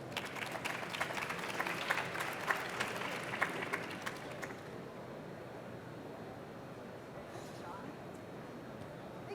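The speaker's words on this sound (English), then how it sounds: "Please give them a round of applause." Conference audience applauding panelists at a GEOINT 2021 session, a short patter of clapping in a large room that dies away after a few seconds into quiet hall ambience.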